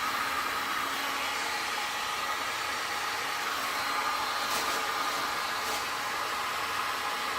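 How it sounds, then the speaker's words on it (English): A heat blower runs over a fresh acrylic resin pour, a steady close hiss of rushing air throughout with no pauses. "A little bit of heat to blow the lines a little bit so they're not so defined."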